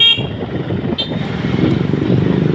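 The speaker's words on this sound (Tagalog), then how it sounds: "Buhol-buhol ang mga motor-motor." Motorcycles and other vehicles in congested city traffic, a steady, near engine rumble with a brief higher tone early on, continuous and fairly loud with no talk.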